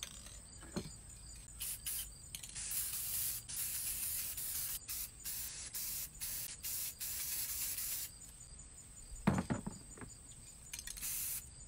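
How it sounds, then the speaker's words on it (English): Bursts of spray paint can hissing in long and short pulses onto a canvas, close and loud, with a couple of dull knocks partway through. "I'm gonna just spray like in the corners and"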